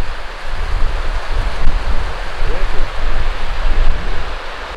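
A river in rural Romania rushes loudly and continuously close by, a broad watery roar with low wind buffeting on the microphone and no clear voices.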